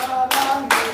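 Two short bursts of hand clapping from a church group, close and fairly loud, over a steady background tone.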